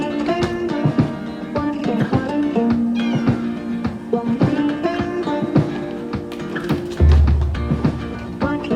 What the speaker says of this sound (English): She only meowed a little bit when we were taking her out the car and into the vets